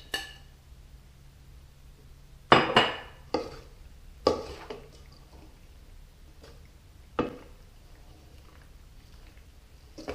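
Lightly whisked eggs are mixed into slightly warm cooked pasta in a bowl for pastitsio, with a utensil clinking against the bowl in a handful of sharp knocks amid soft squishy stirring. It is close up and there is no talk.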